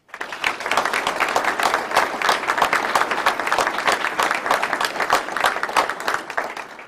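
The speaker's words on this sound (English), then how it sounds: "please join me in a round of applause for their dedicated service to the AER headquarters" A large crowd at an Army Emergency Relief 75th anniversary ceremony applauds steadily, dense and loud clapping sustained throughout without a break.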